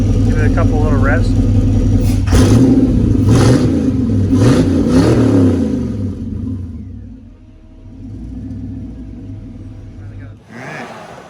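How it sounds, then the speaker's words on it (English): A Volkswagen Squareback engine revs up in a few short bursts over a steady idle, with people talking nearby before it settles back to a low rumble. "Give it a couple little revs."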